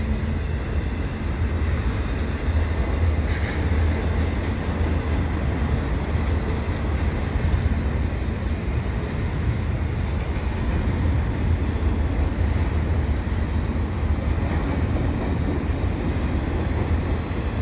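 A double-stack intermodal freight train of Canadian Pacific rolls westbound past close by in winter in a long, steady rumble with a continuous rattling of wheels on rails.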